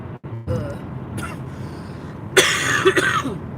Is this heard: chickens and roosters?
no